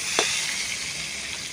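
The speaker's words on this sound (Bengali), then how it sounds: "আমটা দিয়ে একটু ভালো করে ভেজে নেবো আমটাকে" Raw mango frying in the oil left from cooking shol fish, a steady close sizzle and crackle with one brief clink near the start, no voices.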